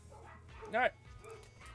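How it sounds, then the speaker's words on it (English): Dogs bark in a short burst, one loud yelping bark standing out over a quieter background, with a man's brief speech alongside. "Sorry about the dogs popping off."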